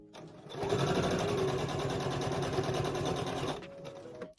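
A sewing machine running steadily at a 2.5 stitch length while sewing bias binding on a wet wipe cover, a fast even whirring hum that starts, runs about three seconds and stops, close and clear.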